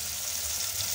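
Onions fry in oil with a steady, close sizzle and crackle that holds even throughout, with no voices.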